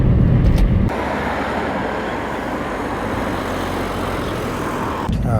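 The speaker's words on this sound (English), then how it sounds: "Something else about this car is how the wind noise picks up." Broad, steady roar of wind and road noise inside a moving Smart MHD 1.0 micro hybrid car, loud and constant, with a heavier rumble at the very start.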